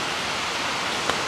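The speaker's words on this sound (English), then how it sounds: "It's pouring down raining" Heavy rain pouring down in a brief dense, steady roar of water, loud and close, with no other sounds.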